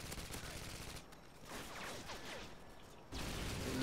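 Bursts of rapid automatic gunfire from Call of Duty: Modern Warfare 2 online play, rattling fusillades with short gaps and whooshing effects, fairly faint overall.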